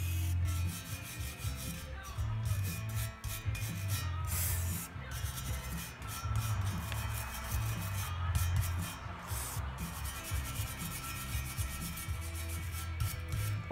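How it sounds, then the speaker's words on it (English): A brass soft-bristle brush scrubs a Seadoo 951 engine part with light pressure, giving a steady, close rasping rub that continues without pause. "This is just a brass soft bristle brush."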